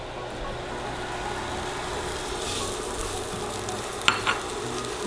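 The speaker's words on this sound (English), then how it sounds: "I am adding onions" Onions sautéing in a pot for broccoli cheese soup, giving a steady, even sizzle throughout with a couple of brief stirring clinks near the end.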